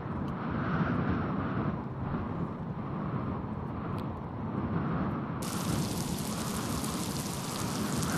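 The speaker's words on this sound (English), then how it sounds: "And then just like that, it began to rain." Steady rain in the Miasmata game, a dense even hiss of falling water that holds constant throughout, with a brighter layer of splashing joining partway through.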